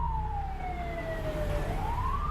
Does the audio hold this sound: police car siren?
yes